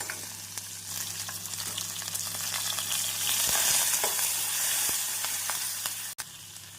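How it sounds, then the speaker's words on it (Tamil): Onion, garlic, green chili and curry leaves sizzle in hot oil in a pan for a pepper-garlic curry, a steady close crackle with occasional stirring clicks and no talk. "நாம் வெங்காயம் பூண்டு போட்டவுடன் ஒரு பச்சை மிளகாய் கறிவேப்பிலை சேர்த்து விடலாம்."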